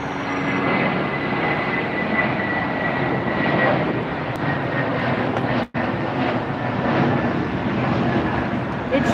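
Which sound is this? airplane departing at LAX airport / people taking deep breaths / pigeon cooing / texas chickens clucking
airplane departing at LAX airport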